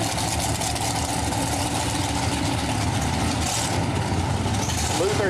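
Pro Modified nitrous drag cars at Farmington Dragway rumble with a deep, steady idle as they back toward the starting line, the low engine drone running under a commentator's talk.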